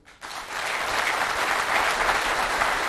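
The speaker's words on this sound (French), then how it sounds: "Après ces discours très applaudis par l'auditoire" An audience at an official ceremony breaks into applause after speeches. Dense, steady clapping starts abruptly after a brief quiet moment and carries on loudly to the end.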